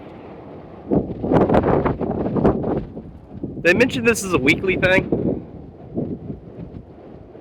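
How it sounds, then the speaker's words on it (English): Wind from a dust storm rolling in outside a garage, rough gusts buffeting the microphone in uneven waves while someone speaks over it. "That's dust storm rolling in."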